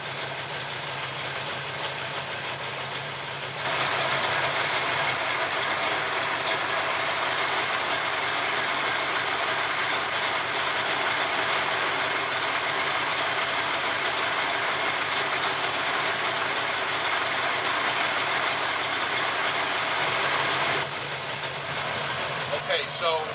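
A Small Block Chevy V8 idles steadily at a constant loud level, a broadband engine drone running for about seventeen seconds after a quieter start, warming up toward operating temperature.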